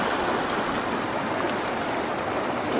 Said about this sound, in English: So we have the outflow, Purple Lake, a cute little creek